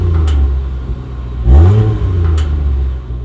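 A 2022 Range Rover Sport HST exhaust rumbles at idle, then blips into a quick throaty rev that rises and falls before settling back to a deep, steady burble, heard close and loud with no talking.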